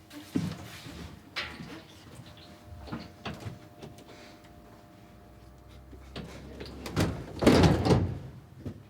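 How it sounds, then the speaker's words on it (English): An aircraft cabin door is worked open during cabin crew training, with several thumps and clunks of the heavy mechanism, then a louder, longer burst of rattling and scraping near the end, close by in a quiet room. "She's got to be able to open doors on the aircraft."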